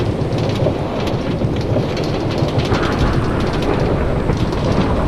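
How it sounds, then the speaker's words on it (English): Steady heavy rain pours continuously with a low rumble of thunder rolling underneath, loud and close throughout, in Minecraft. "looks like we're getting some rain"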